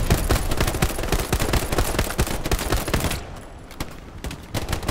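Sustained squad gunfire in the World War II shooter game Hell Let Loose: dense, overlapping rifle and machine-gun bursts, loud and continuous, thinning into scattered separate shots near the end.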